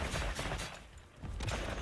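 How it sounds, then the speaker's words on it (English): A heavy bowgun fires Wyvern Piercer shots at a monster in Monster Hunter Wilds, a dense burst of loud piercing impacts that briefly drops away before another rapid volley resumes. "Just shot a Wyvern Piercer right up its ass"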